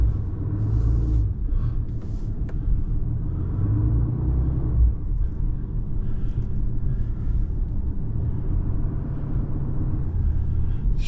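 A truck on a homestead drives along with a steady, close, low engine rumble that holds evenly throughout.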